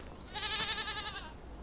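Goats bleating in the video game Father, a wavering, drawn-out bleat of about a second, fairly close and clear against a quiet background with no talk.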